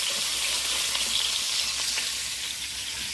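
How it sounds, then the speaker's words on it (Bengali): Two snakehead fish heads fry in hot oil in a pan, giving a dense, continuous, close sizzle and crackle with faint stirring scrapes, no voices. "প্রথমত দুটো মাথা ভেজে নিচ্ছি"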